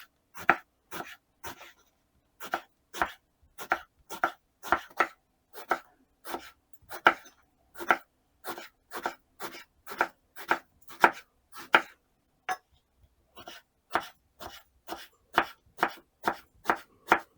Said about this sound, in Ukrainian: спочатку відріжу хвостики, розріжу навпіл і нарізатиму напівкілечками